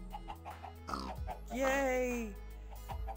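A chicken in Minecraft Block Hunt on the Mineplex server gives a short clucking call, mixed with a game's blocky sound effects and a brief spoken exclamation.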